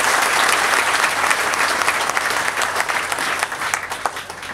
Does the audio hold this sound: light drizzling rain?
no